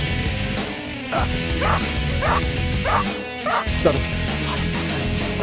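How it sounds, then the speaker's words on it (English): Puppies in personal protection dog training bark in short yipping bursts and whimper in between, close and energetic, over steady background noise. "these high-energy pups are being trained as personal protection dogs"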